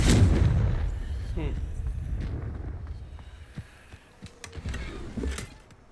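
In the video game Hogwarts Legacy, a Confringo fire spell lands as a booming, close explosion at the start, then rumbles and fades, followed by a few soft thuds and game effects.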